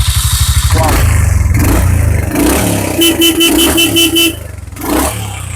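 A 2023 Royal Enfield Hunter motorcycle starting and running, the engine thumping at idle with a revving, popping exhaust, close by, with horn-like toots and other traffic noise around it.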